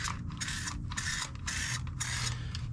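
An aerosol spray can hisses in four short, even bursts while coating the underside of a cleaned lawn mower deck against corrosion, loud and close with brief gaps between passes.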